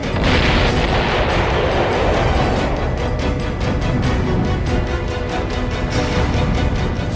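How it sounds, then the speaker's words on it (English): A storage tank erupts into a massive explosion at an industrial fire, a loud continuous roaring blast that rumbles and crackles for several seconds. "Firemen are caught off guard when a storage tank erupts, causing a second massive explosion."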